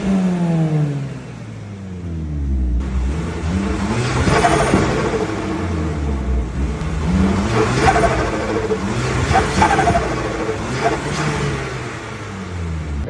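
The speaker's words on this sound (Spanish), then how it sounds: "Ese fue el 4 cilindros" A four-cylinder Audi engine revs repeatedly through its exhaust, loud and close, with rising and falling pitch sweeps and a rumbling idle between revs.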